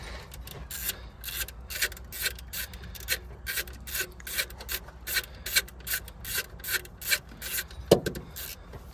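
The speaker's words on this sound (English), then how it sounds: "We're just going to crack these bolts off." A 10mm bolt holding the main wire on the back of the alternator of a Ford Transit Mk6 2.4 diesel being worked loose with steady, rhythmic rasping ratchet strokes close up, ending with a sharp knock.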